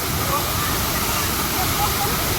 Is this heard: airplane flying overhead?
no